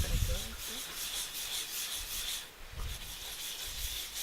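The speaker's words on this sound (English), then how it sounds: "You just rub the wood together while it's wet and it just makes that stuff." Wet thanaka wood rubbed together in Myanmar, a steady close grinding scrape with rhythmic strokes and brief pauses, carrying on alone for a few seconds.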